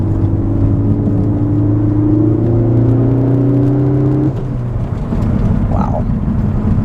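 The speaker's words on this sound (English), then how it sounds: "But second gear pull." A Ford Focus ST with a Ford Performance calibration and an upgraded rear motor mount pulls hard in second gear. The engine note climbs steadily and loud from inside the cabin, then cuts off with a brief whoosh when the throttle lifts, before the drone resumes at lower pitch.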